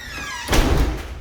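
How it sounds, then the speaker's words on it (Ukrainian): Heavy security door of a San Diego apartment creaking with a long rising squeak as it is pushed open, then a loud close thud and rattle of metal, alone and near. "Поки зайдеш такі секюрні двері."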